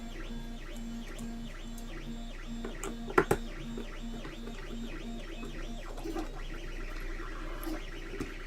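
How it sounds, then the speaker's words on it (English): A G-Tech A20M 3D printer runs on a workbench, its stepper motors whining in repeated rising and falling tones with a steady hum and a couple of sharp clicks, fairly close and continuous. "You have to excuse the noise of the printer."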